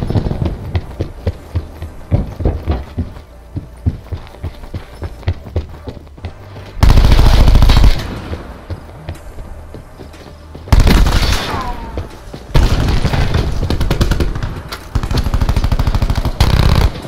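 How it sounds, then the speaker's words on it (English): Gunfire in the video game Call of Duty Black Ops 4 comes in rapid automatic bursts, loud and close, with heavy booming blasts and steady rattling fire through most of the stretch. "Fire the gun"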